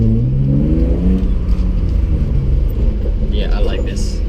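A car engine fitted with a new exhaust revs with a deep rumble and rising, falling harmonic tones early on, then settles into a rough, steady roar while people talk over it.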